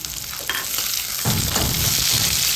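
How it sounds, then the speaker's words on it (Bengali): Chopped capsicum tossed into a pan of fried onion, sizzling briskly with stirring scrapes that grow louder after a soft clink, close and continuous with no voices. "ক্যাপসিকামটা দিয়ে একটু নেড়ে নেবো"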